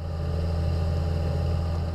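A Suzuki DF100B outboard motor on a Focchi 620 boat, idling at low speed: a steady, even low hum with a faint tonal whine, unbroken and close.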